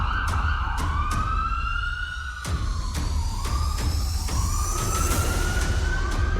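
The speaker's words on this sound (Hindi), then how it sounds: "दिल्ली में चेतावनी का सायरन बजा दिया गया है।" A civil defence warning siren mounted on a PWD high-rise building in Delhi wails loudly and continuously, its pitch sliding up and down in long sweeps, with no voices over it.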